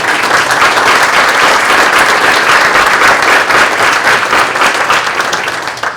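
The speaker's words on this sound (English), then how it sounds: "So can we have a great round of applause for all of them?" An audience at a Chamber of Commerce legislative panel applauds the legislators with loud, dense, sustained clapping that holds steady and tapers slightly at the end.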